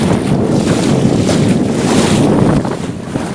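A boat motoring across open water at Devbag, with steady broadband rumble, wind buffeting the microphone and water rushing past the hull throughout, no voices.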